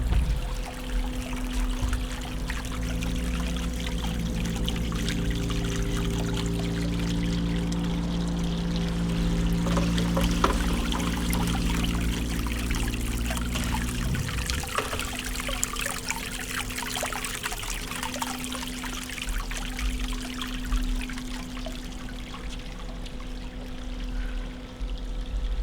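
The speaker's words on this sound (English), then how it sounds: "See if we can get a close-up at that waterfall." Water splashes steadily from a waterfall fountain in St. Augustine, Florida, as a continuous close pouring and trickling wash over faint low background hum.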